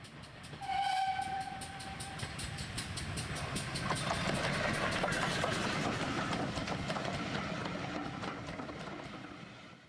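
A G scale model locomotive sound module plays train sounds: a whistle toots near the start, then a rhythmic chuffing and rolling rumble builds and holds steady before easing off.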